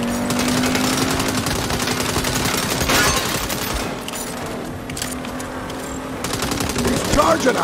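Dense, continuous automatic gunfire in the video game Saints Row rattles on throughout, loud and busy, mixed with other game sounds and shouting voices.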